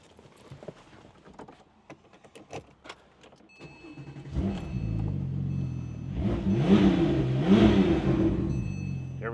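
A 2011 Porsche 911 GT2 RS pulls away hard after a few light clicks and taps. The engine swells into a loud, sustained rising roar that builds over several seconds and stays strong to the end.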